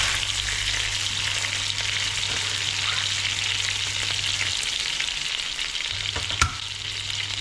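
Onions frying in butter in a pan for rogan josh, a steady close broadband sizzle with a low hum beneath and one brief clink near the end; no talking.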